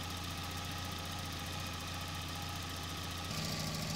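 A car engine idles steadily during a cooling system flush, with a constant mid-pitched drone and faint knocking vibration. The tone shifts slightly near the end.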